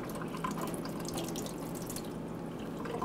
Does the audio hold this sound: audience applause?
no